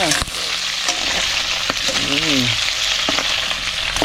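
Oil fries loudly and continuously in a pan before onion, garlic and ginger are sautéed, a dense crackling sizzle with stirring scrapes and a short voiced exclamation partway through.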